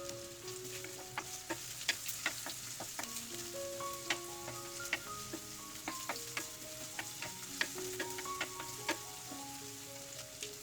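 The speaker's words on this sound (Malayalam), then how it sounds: "ഉള്ളിയെല്ലാം അലികളെല്ലാം വിട്ട് വരുന്നിടം വരെ നന്നായി ഇളക്കി കൊടുക്കുക" Chopped onions stirred and frying in a pan for a Kerala fish curry, a steady sizzle with frequent light scrapes and clicks of the spoon throughout, close and alone with no talk.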